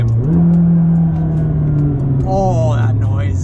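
A McLaren 600LT sports car engine holds a steady, loud rev that climbs and falls, with a voice speaking over the second half of the sound.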